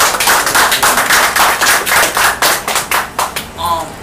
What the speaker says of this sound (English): So I'd like to have a round of applause for that.